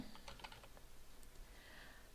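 A few quick keystrokes tap on a computer keyboard as a word is typed, faint and close, with a soft run of clicks early and a few scattered taps afterwards over a quiet background.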